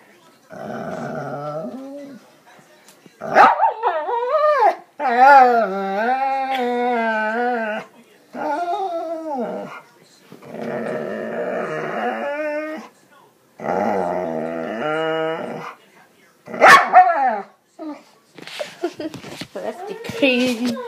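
A puppy vocalizes close up in a series of drawn-out whining growls and howl-like yowls, with short pauses between, ending in a few quick yips, while people talk briefly nearby.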